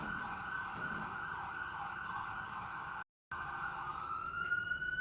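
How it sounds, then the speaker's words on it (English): Emergency sirens wail steadily and fairly faintly, a continuous tone broken by a brief dropout partway through, with a second rising tone near the end. "I'm just gonna just leave the sirens on."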